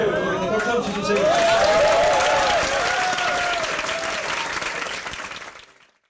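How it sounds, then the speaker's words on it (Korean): A crowd claps loudly while a voice talks over the start, and the applause holds steady before fading away near the end. "박수 한번 주세요."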